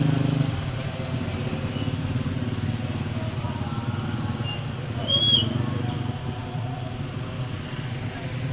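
Motorcycles ride in a funeral procession, a steady droning engine rumble at moderate distance throughout, with faint bird chirps and a slight swell midway.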